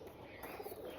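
Roller pigeons, twenty birds, cooing softly inside a kit locker; a low, steady murmur of coos lies close by and quiet throughout.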